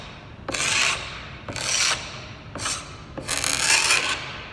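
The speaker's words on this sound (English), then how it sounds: "use this glue scraper, and you can use both hands and really scrape it off easy" Four raspy scraping strokes of a glue scraper pulled across wood to remove excess glue on an end table, each stroke about a second long with short pauses between, close and clear, no talking.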